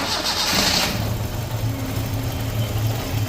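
A Datsun Fairlady roadster with an EFI conversion idling up close, a steady low rumble with a brief higher whine at the start, running fairly evenly.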